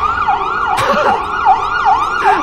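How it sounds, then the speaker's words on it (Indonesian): An ambulance siren wails in steady rising-and-falling sweeps, loud and continuous, with a passing vehicle's rumble underneath and a brief sharp knock partway through; no one speaks. "Masih naik ambulan."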